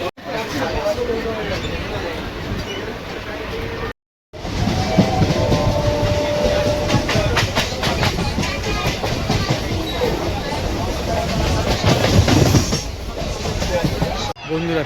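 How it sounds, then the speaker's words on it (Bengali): Arambagh local passenger train in motion on the line to Tarakeswar, a steady loud rumble and clatter of wheels and carriage throughout, with a brief drop-out and voices talking over the running noise. "চলো, ট্রেন দাঁড়িয়ে পড়েছে আর আমরা উঠে পড়লাম।"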